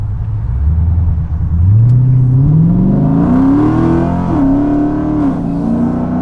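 A cammed Jeep SRT accelerates hard on a highway, its loud engine note climbing through the gears with a brief shift dip, heard from inside the cabin and continuing as a strong droning roar.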